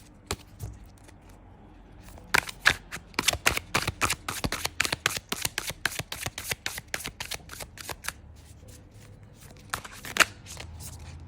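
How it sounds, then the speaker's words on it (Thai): Tarot cards are shuffled in a quick run of crisp riffling clicks, sparse at first, then dense and steady in the middle before thinning out, close and clear with no talking. "เดี๋ยวขออนุญาตสับไพ่ก่อนนะ"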